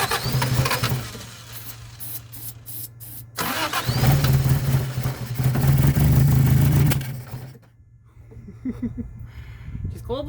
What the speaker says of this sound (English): This is the first time she's firing in 26 years.